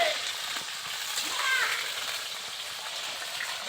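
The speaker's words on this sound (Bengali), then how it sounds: "ফুলকপিটা দিচ্ছি কড়ার ফলে তেলের উপরে। দিয়ে নাড়ছি।" Cauliflower frying in hot oil in a wok while being stirred, a steady continuous sizzle with occasional faint scrapes, moderately loud and close.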